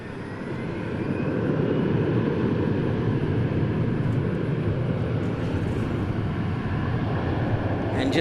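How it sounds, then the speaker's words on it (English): An Embraer E175 jet departing DFW International Airport, a steady broadband engine roar that swells quickly and holds loud and constant, heard alone. "we got another E175 departing"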